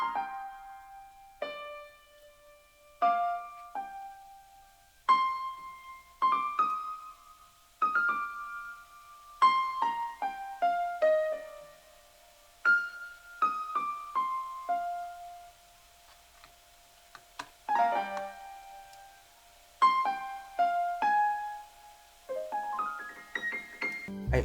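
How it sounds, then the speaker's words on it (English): Solo piano plays soft, sparse melodic phrases with pauses between clusters of notes, quiet and unaccompanied. "I have this piano solo"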